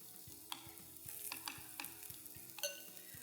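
A coated burger ring fries in hot oil, giving a soft, steady sizzle punctuated by faint stirring clicks and small crackles, quiet and without any voices.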